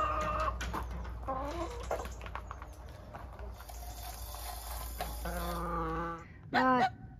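Backyard chickens cluck and chatter in a series of short, rising calls, close by and fairly loud, with a few quieter gaps and a sharper burst of clucking near the end, while no one speaks.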